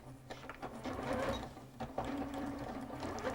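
Sewing machine running steadily as it stitches the armhole seams of a child's dress, a close, even mechanical whir with a brief pause, alone with no talk.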